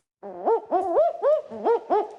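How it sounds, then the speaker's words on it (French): Southern boobook owl calling, a series of about six clear, close hooting notes in quick succession with a barking, dog-like quality, heard alone against silence. "Celle du hibou aboyeur du sud qui se prend, lui, pour un chien."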